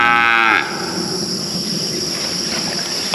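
A single loud cow moo from nearby cattle on a farm pasture opens the moment, then gives way to a steady outdoor hum of insects and faint ambient noise.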